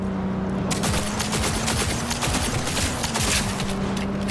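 Sustained, rapid gunfire from a gun in Cyberpunk 2077, a dense, loud stream of overlapping shots running continuously with a steady tone underneath.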